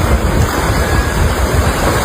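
Strong sea waves breaking on a Philippine shore right beside seaside houses, a loud continuous roar of surf mixed with wind buffeting the microphone, no voices.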